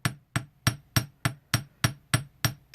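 A ball peen hammer taps jewelry wire flat into a small paddle on a hard surface, nine light, crisp, evenly spaced strikes in a quick steady rhythm, close and fairly quiet.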